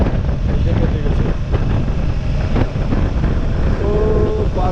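Motorbike cruising along an American highway, with a steady close rumble of engine and road roar buffeted by wind across the mic; a faint tonal whine rises near the end.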